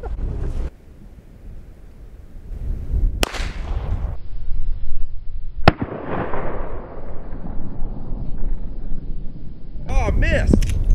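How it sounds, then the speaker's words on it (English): A Henry Big Boy Classic lever-action rifle fires outdoors at soda cans, giving two sharp, loud cracks a few seconds apart over wind noise and a rushing background. "About ready to shoot three pop cans. Well, the reason why we're shooting pop cans is because they explode and it's fun."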